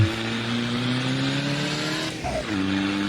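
A pickup truck, the Thunder Express, drives in the Assetto Corsa racing game. Its engine drones steadily and close, dips briefly as if shifting gear, then pulls on again.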